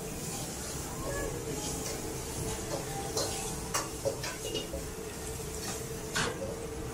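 A large sea bass deep-frying in hot oil, giving a steady, quiet sizzling hiss with small scattered crackles and pops as people talk nearby.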